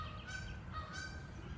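Canada geese honking faintly at a distance on a lake island, two short honks about half a second apart over a low steady outdoor rumble.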